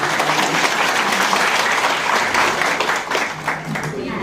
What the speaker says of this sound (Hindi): जोरदार ताली से सर का एक बार।